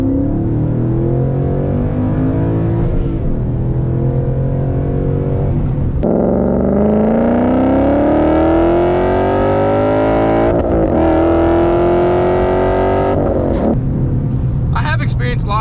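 A Ford Mustang S197 with an MT82 manual gearbox drones steadily and loudly, with several downshifts marked by brief dips in the engine note followed by rising revs.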